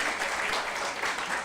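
Applause from a church congregation at a monthly thanksgiving service, honouring the family members present; steady dense clapping throughout the brief moment, moderately loud with no clear voices.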